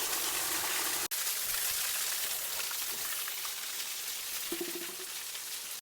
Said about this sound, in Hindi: यहाँ पर देखिए प्राकृतिक झरना बह रहा है।